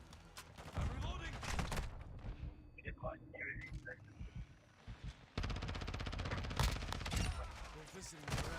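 Bursts of video game gunfire crackle in rapid volleys, a lull partway through, then dense sustained shooting, with people talking over the action.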